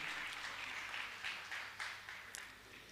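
Audience applause at a Jain spiritual discourse and Q&A session honouring participants, a steady, fairly faint wash of many hands clapping with a few sharper accents, lasting about three seconds without speech.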